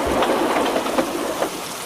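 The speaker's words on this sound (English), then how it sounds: "Rain was beginning to come down." Heavy rain pours steadily throughout, a dense wash of hiss with faint rumbling thunder underneath and no voices.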